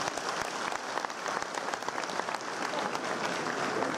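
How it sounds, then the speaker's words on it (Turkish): Audience applause at an industry chamber's 50th anniversary celebration, a steady crowd of hands clapping with distinct sharp claps poking through, sustained evenly throughout. "bu sefer de kendi kendinize alkışlayın bakayım ya"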